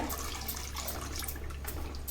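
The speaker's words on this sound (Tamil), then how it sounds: "இப்போ நான் ஒரு டம்ளர் அளவுக்கு தண்ணி விட்டுருக்கேங்க" About a tumbler of water is poured into a simmering bottle gourd kofta gravy, a steady, faint liquid rush with soft splashing that continues throughout, with no speech.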